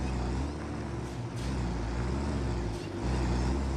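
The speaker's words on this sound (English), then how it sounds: "Yeah, I can get this truck in here." A truck in the factory-building game Satisfactory drives with a steady, loud engine rumble, and the drone swells slightly at a few points and climbs toward the end. No voices are heard.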